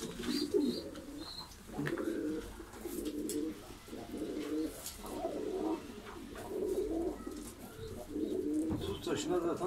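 Domestic pigeons cooing steadily inside a pigeon coop, a dense chorus of repeated low rolling coos close by, with faint chirps and a soft background hum.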